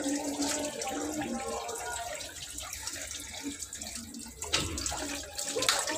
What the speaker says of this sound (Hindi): मैं ज़रा वहाँ से नलका बंद कर रहा हूँ